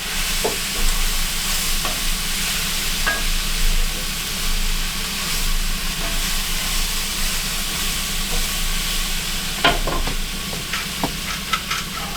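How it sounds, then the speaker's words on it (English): Squash and green tomato sauté being stirred in a hot pan: a loud, continuous sizzle and hiss with scattered scrapes and taps from the utensil, close up and uninterrupted by talking. "We're going to stir this around a little bit more."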